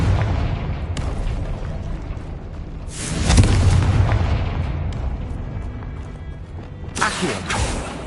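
A Confringo fire spell from Hogwarts Legacy explodes twice. Each is a loud booming burst over a steady background rumble, the first fuller and rolling, the second shorter near the end.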